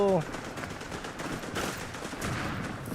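Rapid bursts of machine-gun fire in the video game Verdun crackle continuously through the clip, dense and fairly loud, with a brief tonal blip at the very start.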